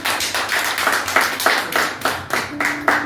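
A congregation at a French-language church service claps in a steady, even rhythm, the sharp hand claps repeating about every third of a second, with a faint sustained tone entering near the end.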